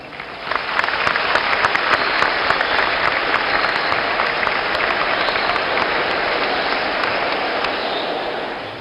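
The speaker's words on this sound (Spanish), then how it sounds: "Lo recibimos con un fuerte aplauso." An audience at an economics forum breaks into loud, dense applause welcoming the vice president, clapping rising quickly and holding steady before easing off at the end.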